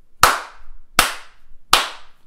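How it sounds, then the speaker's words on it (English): Three loud, sharp hand claps picked up close on a lapel mic, evenly spaced about three quarters of a second apart, each with a quick decay and no talk. "When I clap, it's very loud and they start peaking."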